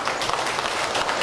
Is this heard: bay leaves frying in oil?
no